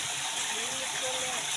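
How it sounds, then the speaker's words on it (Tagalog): A village stream in the Philippines rushes in a steady, close, broadband wash of flowing water, with faint voices underneath. "Dito na kami sa batis namin."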